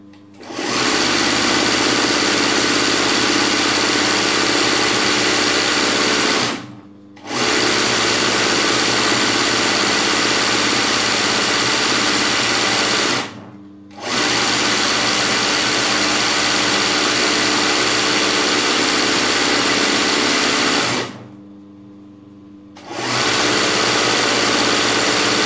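Embroidery sewing machine stitching the edging of a piece, running in long, loud, steady bursts with a constant mechanical drone, broken by three brief pauses.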